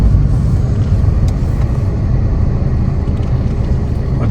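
Car traffic on a road trip from Singapore to Malaysia comes through as a steady, loud, low road rumble from inside a moving vehicle, unbroken and without talk.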